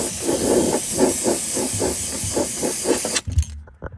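Red spray paint hisses from an aerosol can onto bolts outdoors in a steady pulsing burst that stops abruptly near the end, followed by a few faint clicks.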